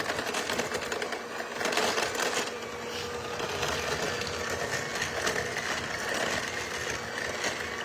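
A stand mixer churns almond paste for frangipane, a steady motorized whir with a rhythmic mechanical chatter, continuous and close throughout.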